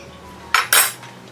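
Bitter gourd gravy in a pot, with two short, loud scraping clatters of a utensil against the pot in quick succession, close up, then quiet.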